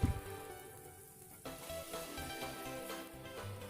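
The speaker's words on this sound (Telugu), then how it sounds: "ఒక 1/2 స్పూను అల్లం వెల్లుల్లి పేస్ట్ వేసుకొని పచ్చివాసన పోయే వరకు వేయించుకోవాలండి" Ginger garlic paste fries with onions in a pan, a soft continuous sizzle that swells after a clatter, with light stirring scrapes and knocks throughout and no talking.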